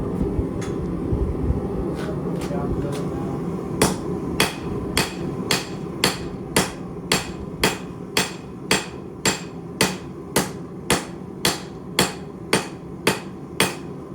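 A hammer forging a forge-welded steel billet for a hidden-tang knife: a few scattered blows at first, then a steady run of sharp ringing strikes about twice a second, close and clear with no talking.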